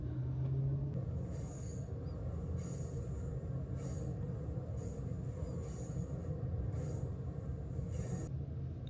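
The Amtrak Southwest Chief rolls into Victorville station in California, a low steady rumble of rail cars with intermittent higher squeals or hisses recurring over the constant drone.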